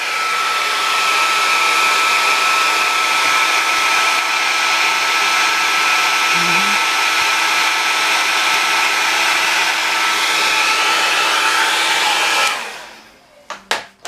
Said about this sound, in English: I'm going to go ahead and dry it. Where the air dryer comes in.